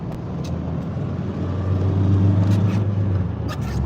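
An FSO Polonez car being driven around Wrocław: a steady engine drone swelling in the middle as the car accelerates, heard from inside the cabin with faint road noise and no talking.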